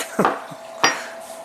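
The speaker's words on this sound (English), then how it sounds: "your knife just falls right apart" Parts of a ZT 0450 folding knife clattering apart on disassembly: two short, close metallic clinks about half a second apart, with a faint tap between them and no voices.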